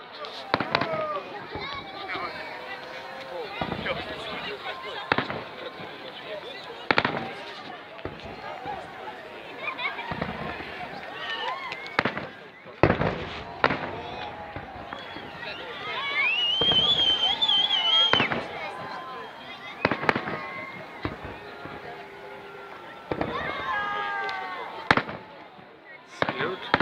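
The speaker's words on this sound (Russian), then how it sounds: "Салют в честь 73-й годовщины Победы и 74-й годовщины освобождения Севастополя." Salute fireworks over Sevastopol bay for Victory Day, bursting repeatedly in irregular sharp cracks and booms, some near and loud, with crackling between, under crowd chatter and voices throughout.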